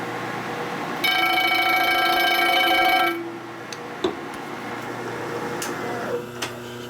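Milling machine boring a Milwaukee-Eight 145ci motorcycle engine case out to a 4.5-inch big bore: a loud ringing cutter whine for two seconds, then a steady machine hum with scattered sharp ticks.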